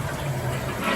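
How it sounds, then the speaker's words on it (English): A toilet flushes in a brief, close rush of swirling water lasting about a second. "Do you flush the toilet?"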